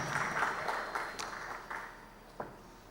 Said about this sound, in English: Please give one more round of applause to Kumari Darshana.